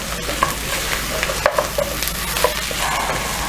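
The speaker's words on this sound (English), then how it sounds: "I'm going to add this ginger and garlic. That is ginger and garlic. Then I'm going to stir for a minute." Ginger and garlic sizzle in a hot pan while a utensil stirs them, steady frying hiss under light scraping and clinking taps, close and without talk.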